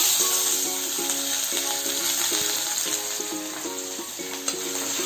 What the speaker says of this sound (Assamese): তেলখিনিতে কেইটামান জিৰা গুটি দি লৈছোঁ তাৰপিছত পিঁয়াজ দিছোঁ